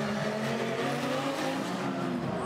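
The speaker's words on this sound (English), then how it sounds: "This is Peter Conroy in the Audi R8 LMS" Race cars roar steadily past on a circuit, including an Audi R8 LMS and a Ferrari 458 in a GT championship round at Sydney, engines loud and continuous with no talk over them.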